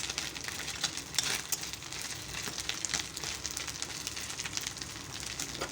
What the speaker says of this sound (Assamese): বহুত সৰু হয়তো মাছকেইটা, লাৰিলে ভাজি যায়